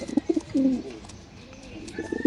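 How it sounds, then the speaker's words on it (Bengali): A male white Lokkha pigeon coos in low, rounded, throaty bursts, several short calls and then a longer drawn coo, close by, with faint background noise between calls. "কবুতরের ডাকটা দেখা দিই আমরা একটু নরের"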